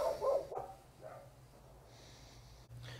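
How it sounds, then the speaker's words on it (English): A dog gives one short bark at the very start, then only a quiet low hum follows, with no talking. "Dog."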